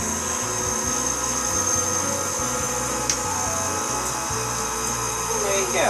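KitchenAid stand mixer with its meat grinder attachment running steadily, grinding meat, a loud continuous motor whine and drone throughout, close up.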